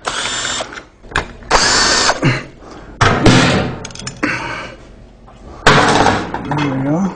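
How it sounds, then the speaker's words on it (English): Screws are backed out of a Harley-Davidson derby cover during a clutch adjustment in a workshop, with loud bursts of a power driver whirring in short runs between pauses, close up, and a voice talking at times. "take the screws out that are holding your derby cover"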